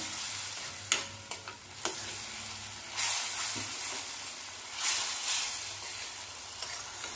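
Dal tempering is stirred and roasted in a pan, a soft steady sizzle with the clink and scrape of a spoon at irregular intervals and brief louder hissing bursts, close and without talk.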